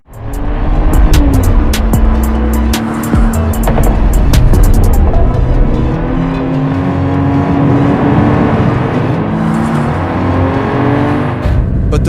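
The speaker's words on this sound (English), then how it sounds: "inline 6-cylinder engine with twin charging, a powerful exhaust gas turbocharger, plus an electric auxiliary compressor" Mercedes-AMG GLC 53 with a 3.0-litre twin-charged inline-six, turbocharger and electric auxiliary compressor, roaring close and loud throughout, with revving swells, shifting engine tones and brief sharp crackles near the start.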